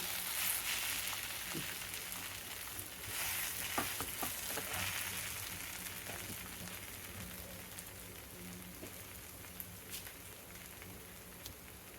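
Kochu shak curry with coconut is stirred in a pan, giving a quiet, continuous crackling sizzle with occasional soft scrapes and taps from the utensil, gradually fading slightly over time.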